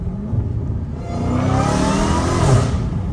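A Dodge Hellcat Redeye in sport mode accelerates hard, its engine rising from a deep idle rumble into a loud, climbing roar up close, with the pitch sweeping upward over the final seconds.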